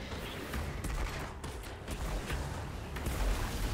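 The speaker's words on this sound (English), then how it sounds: "Also, I'm sniping again with my shotgun." Rapid, dense gunfire from a shotgun in the video game Outriders, a steady loud barrage of overlapping blasts with no clear gaps, mixed with game effects throughout.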